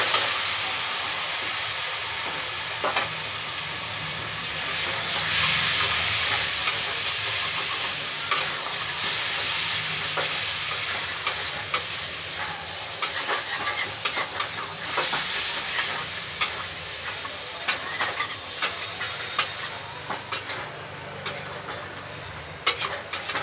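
Mutton curry sizzles in the pan as tomato paste is poured in and stirred, a dense sustained hiss with frequent scraping knocks that grow sharper toward the end, no voices.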